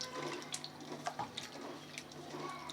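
Dry fish are rinsed by hand in water, making faint, steady sloshing and trickling with small splashes throughout.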